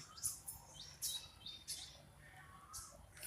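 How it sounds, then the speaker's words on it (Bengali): Several sharp, high chirping bird calls in short bursts, fairly clear against quiet outdoor background. "একটা মাছরাঙ্গা পাখি গেল এখন"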